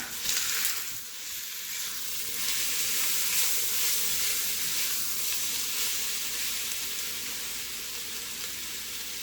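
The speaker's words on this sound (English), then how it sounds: "Now let's fry this up here" Onions frying in a hot pan for French onion soup, a steady, bright sizzle that continues throughout with a faint crackle and hiss, close and even, with no talking.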